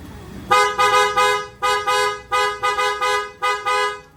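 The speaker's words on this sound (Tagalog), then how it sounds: "So, yun yung tunog ng Bosch Evolution horn natin." A loud Bosch Evolution car horn honks repeatedly, eight or so blasts of varying length in an uneven rhythm, close and dominant with nothing else heard.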